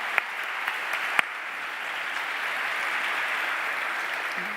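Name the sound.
applause welcoming forum panelists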